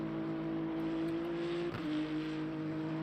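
An LMP3 prototype race car in the Le Mans Ultimate sim at Imola drones past with a steady engine tone that shifts briefly as it goes by, moderately loud and alone.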